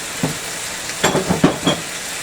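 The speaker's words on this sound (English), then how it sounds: "if you get the heat hot enough, it'll start to sizzle a bit." A vegan stir fry sizzles in a hot wok, a steady broadband hiss with several short, louder bursts as the food is tossed and stirred, close and alone.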